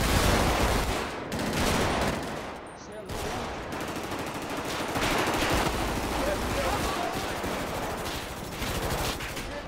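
Sustained gunfire in GTA 5 during a firefight inside a Publix supermarket, with loud, near bursts of automatic fire and rattling shots layered densely throughout, under occasional speech.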